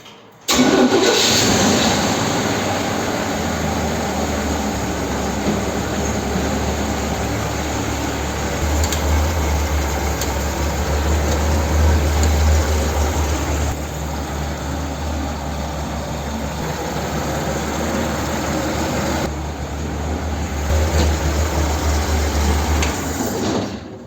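A Grumman truck engine, just rewired with a fresh engine harness, cranks and catches, then settles into a steady, loud idle that hums on for about twenty seconds, with no one speaking.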